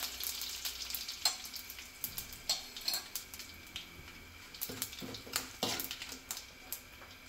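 Curry leaves hitting hot oil for a bottle gourd buttermilk sambar, a steady close sizzle broken by frequent sharp clinks and scrapes of a metal spoon against the pan, no voices.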